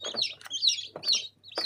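Newly hatched chicks cheep inside a plastic incubator on day 21 of hatching, giving sharp, high peeping calls in short repeated bursts with brief pauses between them, close and fairly loud.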